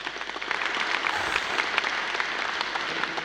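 Canned crowd applause sound effect played into a room at the National Apprenticeship Awards 2020, a steady wash of clapping that swells in after a brief lead-in and holds evenly at moderate loudness.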